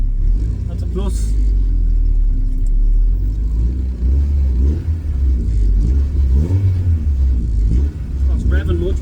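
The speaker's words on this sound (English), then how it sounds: "Oh, it's revving much better now." A Mini fitted with a VTEC engine rumbles and revs nearby, its engine note rising and falling in repeated bursts, with a person talking over it.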